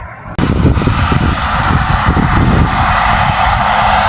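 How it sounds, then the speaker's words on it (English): A fixed-wing airplane taking off or landing near an airport beside a beach roars in steadily, a loud, sustained engine rumble that starts abruptly and holds throughout. "in the background is a plane. It's about to lift off or coming in."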